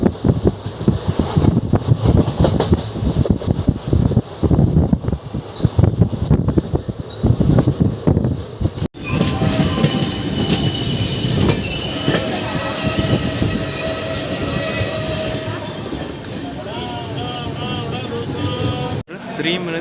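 An express train rumbles along, then wheels squeal and screech on the rails as it slows arriving at Jolarpettai Junction station, with wind buffeting the microphone throughout.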